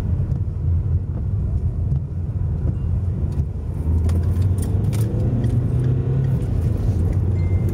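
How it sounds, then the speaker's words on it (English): A BMW car drives along a road between Silloth and Carlisle in Cumbria, a steady low engine and tyre rumble that swells slightly partway through, with light wind buffeting and no talking. "BMW."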